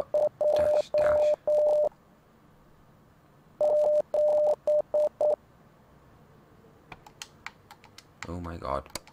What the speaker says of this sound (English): So three dots and dash, so three.